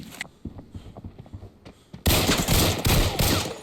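SVDS rifle hip-fired in Arena Breakout, a few scattered shots first, then a loud sustained burst of heavy gunfire close by, with no talk.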